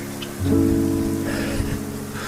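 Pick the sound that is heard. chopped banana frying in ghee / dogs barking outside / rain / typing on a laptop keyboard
rain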